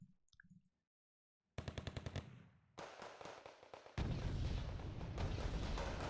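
Tank guns firing in the Wargame: Red Dragon strategy game, a brief near-silent gap, then bursts of rapid staccato shots building into a loud sustained barrage of gunfire and blasts.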